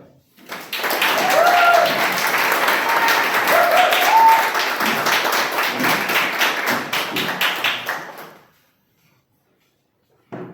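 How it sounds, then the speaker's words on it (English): An audience at a Toastmasters club meeting applauds to welcome a speaker: dense, steady clapping swells quickly, holds for about eight seconds with a few voices over it, then stops abruptly into near silence. "With a thunderous round of applause, please help me welcome this well-traveled, a passionate engineer and book-smart Toastmaster Kavya."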